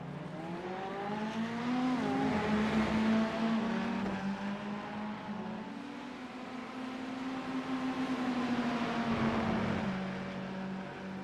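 A pack of GT3 race cars in the iRacing sim at Circuit of the Americas hums steadily through the esses, a continuous engine drone rising and falling in pitch with no talk over it.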